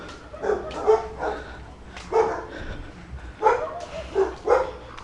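Two dogs bark in short scattered bursts, a few sharp yips and woofs spaced unevenly at moderate distance, with quieter whimpering between them.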